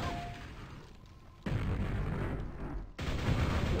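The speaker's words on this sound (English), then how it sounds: "Stop shooting your stupid grenades." Grenades from the game Quake go off in two sudden loud booms, each with a rumbling tail, separated by about a second and a half of quieter roar.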